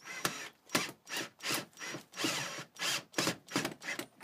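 A self-tapping screw is driven into the metal pipe of a chimney sweep brush, giving about nine evenly spaced, close ratcheting turns, each a short gritty grind.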